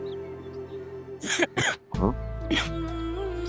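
A few short, harsh coughs in quick succession, fairly close, followed by a low steady hum.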